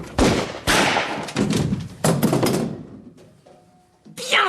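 Gunfire in a French TV crime drama standoff as an armed man is shot: several loud, sharp bangs with ringing tails, spaced unevenly over a few seconds.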